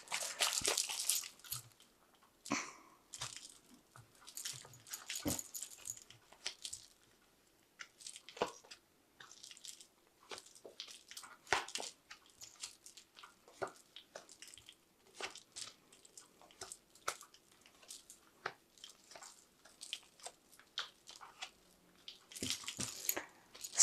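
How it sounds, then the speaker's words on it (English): A Fountain Tarot deck being shuffled by hand, giving a run of quiet crisp card flicks and soft slaps in irregular bursts, close and fairly faint, with no talking. "Let's shuffle this deck properly."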